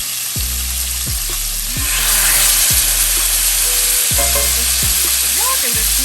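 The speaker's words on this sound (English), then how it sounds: "So now we're gonna get a good sear on our chicken." Chicken sears in a hot skillet with a loud, continuous close sizzle, while a utensil scrapes and stirs in a steady rhythm.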